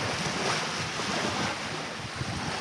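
Waves wash continuously up a beach near Perth, Western Australia, a loud, steady rushing surf mixed with wind buffeting the microphone, with no voices.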